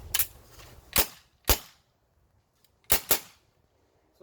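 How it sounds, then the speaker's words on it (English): A Tippmann TMC paintball marker dry-fired with no paintballs loaded, giving five sharp, close pneumatic snaps in irregular pairs, each a crisp pop with a brief hiss, with no talking. "Now I'm gonna shoot it a couple of times and what it sounds like when it's not shooting any paintball bullets."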